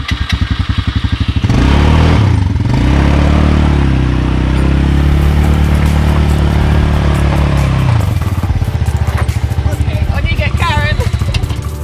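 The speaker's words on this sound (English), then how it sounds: "We are about to wake up the entire hostel though by turning on this quad bike." A quad bike starts up outside a beach hostel in Himarë, Albania, its engine settling into a loud, close, steady chugging run for several seconds before revving and idling.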